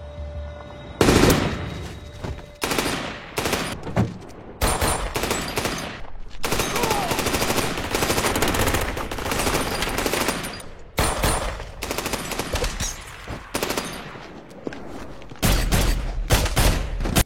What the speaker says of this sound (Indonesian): Aksi dor-dor epik pun ditampilkan.